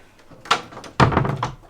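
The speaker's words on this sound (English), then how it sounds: "We're going to close the door." A door on an old yacht swings shut with a couple of solid thumps and a brief rattle, close by and fairly loud.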